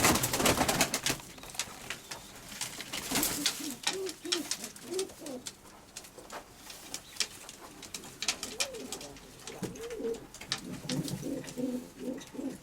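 A red-winged pigeon coos in soft repeated phrases amid a flock of pigeons, with flapping, shuffling and scattered clicks close by in a loft.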